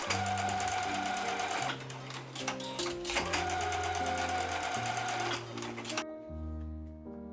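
Sewing machine basting handles onto a denim tote bag, with rapid rhythmic stitching in several runs of varying speed, close and prominent, ending with a brief pause and a low whir.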